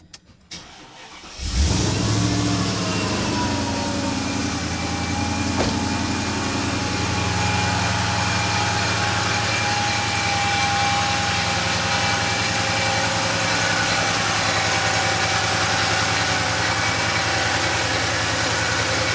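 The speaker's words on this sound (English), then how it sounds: "we're going to fire up the car right now" Mercedes E55 AMG with the supercharged M113K V8 cranks and fires about a second and a half in, then settles into a steady, loud, close idle with a constant whine and low rumble for the rest.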